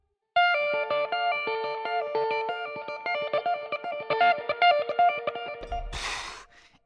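Electric guitar plays a fast solo lick in a famous guitarist's style, rapid picked notes in quick repeating runs, close and clear with light reverb, ending in a short noisy burst.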